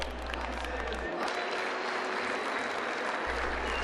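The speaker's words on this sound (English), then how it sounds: "Just like a real soccer match, the crowds are very excited." Excited crowd applauding steadily at the WCG 2006 final, a dense wash of clapping with a low hum underneath.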